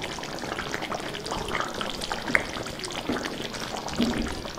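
A spoon stirring a pot of traditional Andhra bottle gourd stew with jaggery pieces added, giving soft wet scraping and bubbling sounds at close range with a brief louder clink.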